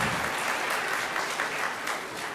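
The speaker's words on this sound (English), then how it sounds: "So give them a round of applause for that." An audience at an elementary school kindergarten celebration claps steadily, a dense, even wash of applause that holds for a couple of seconds with no voices on top.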